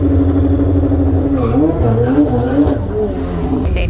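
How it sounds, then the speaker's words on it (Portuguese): A 750-horsepower Porsche engine rumbling at idle, then revving in several rising and falling bursts before settling back to a low, close, loud rumble. "Tem um rondeiro de Porsche ali atrás."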